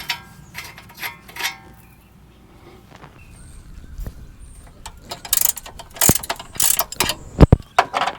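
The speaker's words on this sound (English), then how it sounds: "Next, we'll undo this bolt here for the ball joint. Take it slow with this pinch bolt." A wrench ratchets loose a rusty ball joint pinch bolt on a Subaru suspension, with bursts of sharp metallic clicking and scraping growing busier toward the end, close and fairly loud.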